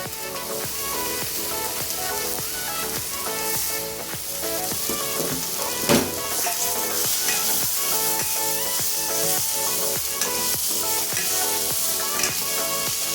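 Carrots, beans and potatoes fry in a pan for vegetable biryani, giving a steady, loud sizzle. Repeated scraping stir strokes come through at close range, with no voices.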